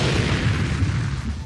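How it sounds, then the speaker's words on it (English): A car explosion in a low-budget movie: a loud, sustained low boom with a dense, rumbling roar that fills the whole moment before tapering slightly. "He vanished in an improbable explosion. The entire car was atomized."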